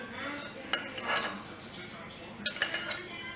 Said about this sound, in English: So I'm just stirring that up, making sure they're seasoned all over all of the shrimp.